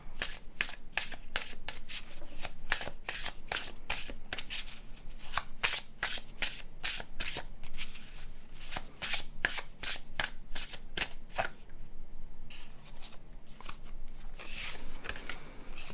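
Tarot cards shuffled by hand before a significator card is drawn, a steady run of crisp riffling flutters close up for about eleven seconds, then a pause and a few softer card slides.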